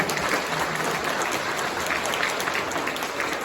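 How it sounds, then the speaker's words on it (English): Banquet guests at an opening-ceremony dinner clap for the ministers in a steady, full wash of applause that holds at even loudness throughout, with no voices over it. "Let's give a round of applause for the ministers."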